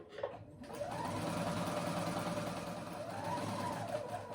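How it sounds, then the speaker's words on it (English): A home sewing machine runs a steady, fast, close-up whir while stitching a row of long basting stitches on pant fabric, its motor pitch rising and falling slightly throughout. "So I'm going to move down just a little bit and do another row of basting stitches for just an easier way to gather."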